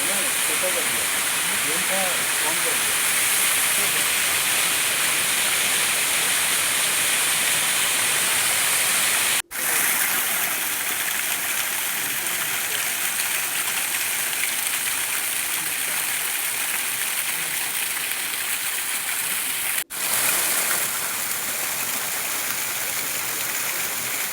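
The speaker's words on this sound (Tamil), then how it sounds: "அதுக்கு பின்னால் வாட்டர் ஃபால்ஸ் செம்மையாக இருக்குல்ல" A forest waterfall in a reserve forest, a loud, dense, unbroken roar of rushing water close by that fills the whole stretch, with two brief dropouts.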